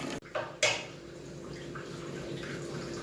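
Hot water splashes and pours into couscous dough in a bowl, a few sharp splashes at the start, then a softer, steady liquid trickle and stirring.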